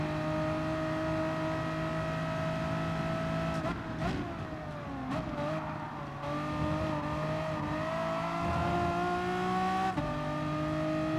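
A race car's engine in Gran Turismo Sport screams at high revs with a steady harmonic whine, dipping through quick gear changes and revving back up, loud and close with no voices.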